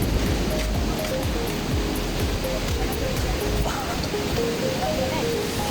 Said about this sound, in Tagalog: Kusog ng ulan.